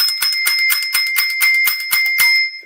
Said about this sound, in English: I was able to ring the bell